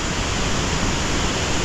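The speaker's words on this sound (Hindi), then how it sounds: "ये देखो पूरा पूरा मस्त तरीके से सामने में पानी का झरना" A waterfall beside a mountain road in the Johar valley, between Nahar Devi and Munsyari, gives a steady, even roar of rushing water that fills the whole moment without a break. No one speaks over it.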